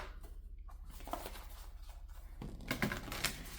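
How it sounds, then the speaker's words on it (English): A tarot card deck is shuffled by hand, a soft rapid papery riffling and pattering that grows denser toward the end, close and quiet with a steady low hum behind. "I am live shuffling this one."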